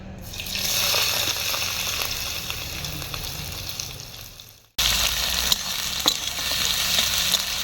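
Dried red chillies and chopped onions hitting hot oil in a village kitchen, a loud continuous sizzle with stirring scrapes that dips briefly and then resumes just as strong.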